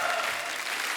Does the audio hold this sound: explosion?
no